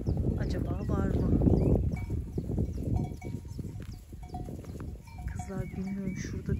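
Sheep bleat repeatedly amid a flock, with people talking over the animals throughout.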